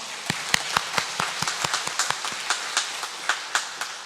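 A church congregation applauds during a worship service, with a few hands clapping in sparse, uneven claps that carry a room echo and continue steadily for about four seconds.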